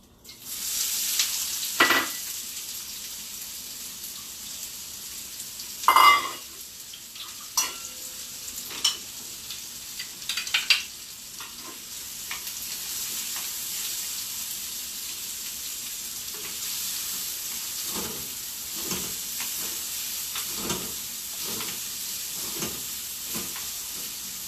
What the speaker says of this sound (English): throw in the onion and the cumin and stir it for about 4 or 5 minutes